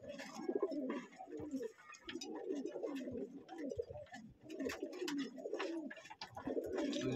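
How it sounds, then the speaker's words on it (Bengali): Pigeons coo continuously inside a loft in cold weather, where chicks have hatched. Several overlapping birds make low, rolling calls close by, with no one speaking. "দেখতে আছেন যে কবুতর বাচ্চা ফুটছে খাবারের জন্য আর কি করতেছে।"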